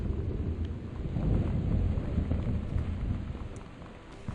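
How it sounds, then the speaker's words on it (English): Thunder rolls in the video game Gone Home, a deep continuous rumble with the wash of rain and wind, swelling in the middle and easing off toward the end, with no voices. "Thunder?"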